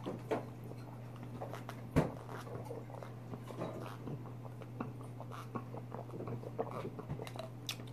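Close, quiet chewing and crunching of broccoli salad at a mukbang meal, with irregular soft bites and a steady low hum underneath, no talking.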